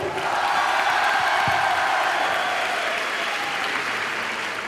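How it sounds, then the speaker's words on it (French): A large audience at the Toulouse Game Show applauds steadily throughout, a dense wash of clapping from a crowd, loud and continuous without letting up. "vous pouvez vous applaudir"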